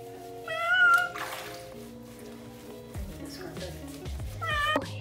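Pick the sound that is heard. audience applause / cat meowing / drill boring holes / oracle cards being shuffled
cat meowing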